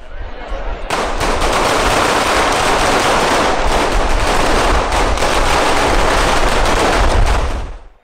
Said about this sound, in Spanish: Las mascletas son espectáculos pirotécnicos caracterizados por su intensidad sonora y rítmica, utilizando numerosos petardos y cohetes para crear efectos acústicos y vibratorios.